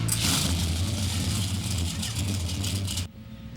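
Classic car engines rumble steadily at the Morro Bay Car Show, a throaty low drone with background chatter mixed in, cutting off abruptly near the end.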